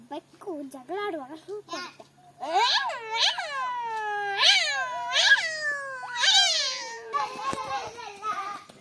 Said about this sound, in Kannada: ಬೆಕ್ಕು ಜಗಳಾಡುವಾಗ